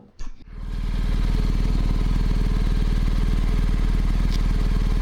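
Motorcycle engine from a helmet-mounted camera while riding, a loud steady engine drone with fast rhythmic pulsing and wind rush, starting after a brief clatter and then holding continuously.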